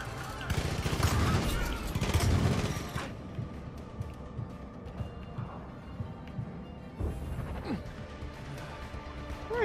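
Gunfire in Far Cry 5 co-op play, a dense burst of loud shots and crashing impacts in the first three seconds, then scattered quieter shots and game noise.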